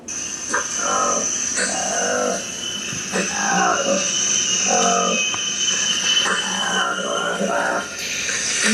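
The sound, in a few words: newly discovered colobus monkey species calling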